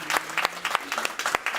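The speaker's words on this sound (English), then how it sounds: "I think that deserves a round of applause" Audience clapping at an MTN Business SME Day 2023 event, celebrating a village-power project, in a short, fairly close burst of scattered, uneven claps with a little crowd murmur.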